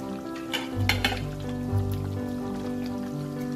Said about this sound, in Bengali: এবার আমি মাছের ডিমের বড়াগুলো দিয়ে দেবো।